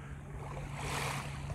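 A motorboat runs out on the Sea of Azov, a distant whooshing drone blended with wind and surf, fairly faint and steady and swelling slightly toward the end.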